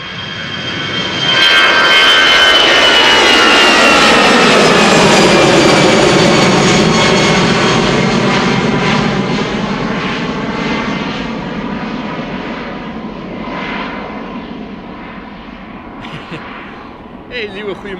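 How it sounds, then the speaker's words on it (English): A Swiss Airbus A320 jet bound for Zurich takes off from Schiphol Airport in a northerly wind. Its roar swells quickly to a loud, sustained rumble with a shifting whine, then slowly recedes into the distance. "This is an A320 to Zurich,"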